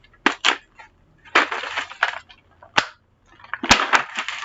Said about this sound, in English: that sound is me opening my brand new case of pencils